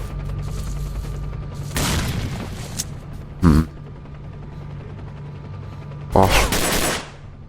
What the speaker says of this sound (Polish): Jednego pozbawiłem życia granatem.